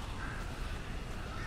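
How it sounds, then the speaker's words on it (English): A large flock of crows in Alan Wake gives off a brief burst of harsh, overlapping cawing that sits fairly close and fills the moment without any talk. "That is quite a lot of birds."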